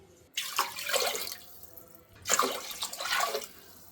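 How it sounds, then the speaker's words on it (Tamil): Water poured from a tumbler onto rice and lentils in a pot for pongal, in two separate splashing pours, close and fairly soft, with no talking. "இப்போ நம்ம 3 டம்ளர் தண்ணி ஊற்றிக்கலாம்"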